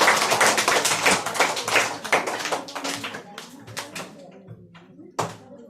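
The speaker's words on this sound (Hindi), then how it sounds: "चलिए इसके नाम पे जोरदार ताली बजाइए।" Students in a classroom clap loudly after a correct quiz answer, a brisk burst of many hands that gradually thins out into a few scattered claps, with no talking over it.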